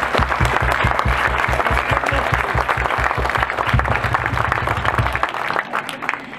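A large crowd at an outdoor guitar record gathering in Přerov bursts into sustained applause, dense clapping carrying steadily for several seconds before thinning toward the end.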